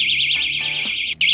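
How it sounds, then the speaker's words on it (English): A self-defence keychain personal alarm shrieks loudly and close up with a piercing, warbling high-pitched tone, briefly cutting out near the end before resuming. "These alarms are super, super loud."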